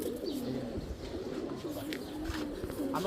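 Pigeons in a loft coo in low, repeated rolling calls, close and fairly soft, while someone talks over them.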